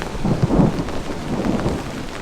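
Rain pours down steadily on a camping spot under a hammock while low thunder rumbles, swelling twice in soft waves; no voices.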